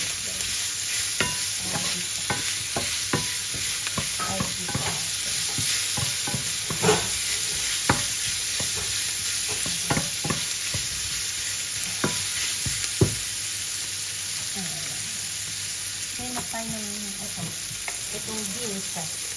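Tomatoes sautéing in a pan for red beans with pork and sotanghon, continuous sizzling with frequent spatula taps and scrapes, close and steady, no talking.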